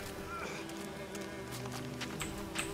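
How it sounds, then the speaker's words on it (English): A swarm of bees buzzes around a beehive in the Witcher 3 video game, a steady, close droning hum that holds evenly throughout with faint game sounds over it. "I'm petting a beehive?"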